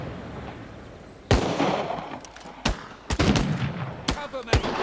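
Gunfire in the World War II stealth game Partisans 1941: several sharp, loud shots in irregular bursts, some close together, over a low ambient bed.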